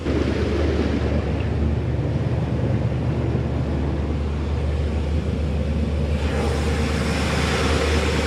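A 1986 Shamrock 20 boat's inboard motor runs steadily with a low, continuous drone, mixed with wind and water noise throughout, with no voices heard.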